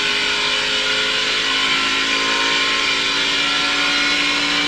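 NASCAR Xfinity Series race car at Pocono building speed, a steady loud engine drone with a high whining tone holding throughout, dense and continuous with no voices.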